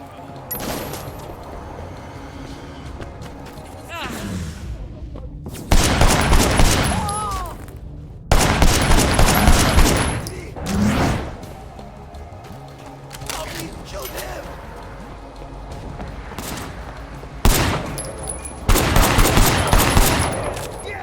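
Gunfire in the video game Cyberpunk 2077, loud rattling bursts of rapid shots that come in separate volleys, with in-game voices and sound effects between them.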